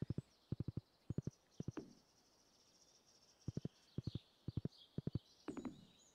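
Horse hooves clip-clop at a walking pace in Stardew Valley, sounding as steady clusters of crisp hoofbeats with short pauses between them, over a soft ambient game background.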